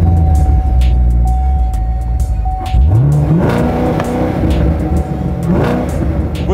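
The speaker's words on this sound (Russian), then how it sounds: "Выхлоп громкий, хорошая отсечка." A Chevrolet Corvette C7 Grand Sport engine in sport mode revs hard several times, its loud exhaust rising and falling in pitch with sharp rev-limiter cutoffs, close by.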